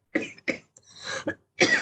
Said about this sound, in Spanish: Me van a disculpar que vaya a estar tosiendo